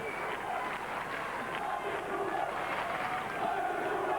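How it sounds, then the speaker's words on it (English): Swedish supporters chant from the stands during a men's tennis match at the Australian Open in Melbourne, a sustained rhythmic crowd chorus heard at a distance and fairly faint, blended with general stadium murmur. "Now you can hear the chants of the Swedish supporters again."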